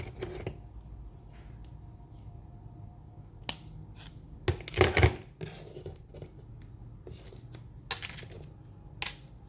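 Sharp snips of cutters biting through silver wire while wrapping a drusy amethyst, with several crisp cuts spread across light handling and clinking of the wire and tools nearby.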